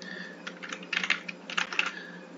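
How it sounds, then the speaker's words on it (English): A password is typed on a computer keyboard for an Ubuntu login in VirtualBox, a quick irregular run of soft key clicks that are close and fairly quiet, with several bunched strokes. "let me just make sure I'm typing the thing."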